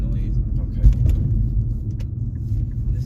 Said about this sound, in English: I like your exhaust tone.